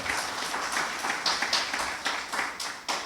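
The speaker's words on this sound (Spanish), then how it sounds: "Denle un fuerte aplauso al Señor." A church congregation claps together in a steady, fairly even rhythm of bright hand claps, a moderately close and loud burst of applause with no talking over it.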